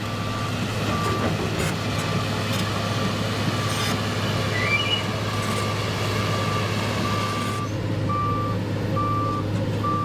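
Tracked excavator propelling with a steady low engine drone and rattle, while a reversing alarm beeps repeatedly at an even rhythm throughout, clearly audible over the machinery.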